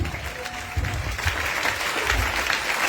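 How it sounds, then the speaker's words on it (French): A church congregation applauds in acclaim of Jesus, producing a dense, steady wash of clapping at moderate distance that continues without a break. "Tu vas acclamer le Seigneur Jésus."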